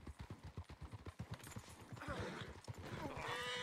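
Horse hooves in the Red Dead Online video game clop at a steady trot, a rapid even rhythm that fades into a softer wash of ambient game sound, with no talking.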